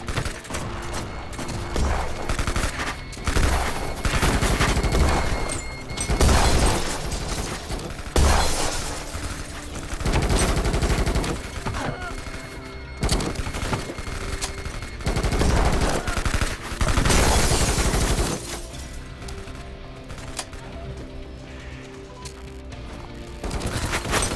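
Grenades and gunfire in a video game, a dense barrage of loud bursts and crackling explosions repeating in waves, thinning toward the end.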